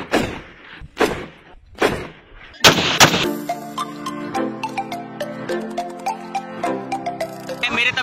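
Gunfire at a Balochistan Levies Force firing range: three separate loud shots ring out, then a rapid string of sharp, ringing reports with echo, close and dominant.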